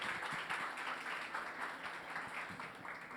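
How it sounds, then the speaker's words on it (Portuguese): A crowd at a startup meetup applauds a founder with steady, fairly faint clapping that holds even throughout, with a few sharper claps poking through the wash. "uma salva de palmas para ele, que não desistiu e está sempre aqui com a gente."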